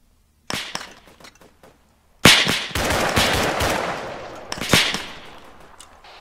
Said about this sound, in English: We're taking fire from there, guys.